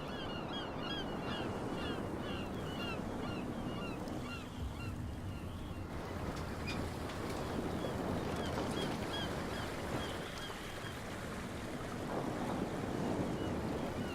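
Harbour water and waves lapping at a small dock town at night in the Call of Cthulhu game, a continuous wash of surf and wind with faint creaking and chirping detail, steady and moderately loud throughout.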